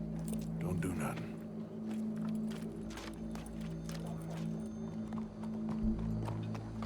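Horse hooves clip-clop steadily in Red Dead Redemption II, moderately loud beneath a constant low game hum and bursts of talk.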